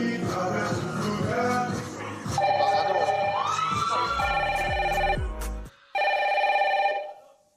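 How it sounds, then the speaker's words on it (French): A telephone rings loudly and repeatedly in the Secret Story house, its electronic warbling bursts coming one after another, with a brief gap near the end and some background noise underneath. "merci de passer le téléphone à Curtis"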